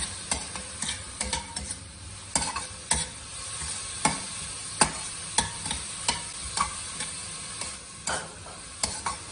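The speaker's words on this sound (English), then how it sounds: "This we have to saute for 2 minutes and then add the capsicum." Onions sautéing in a pan, a steady close sizzle with frequent sharp clicks and scrapes of a spatula stirring, no voices.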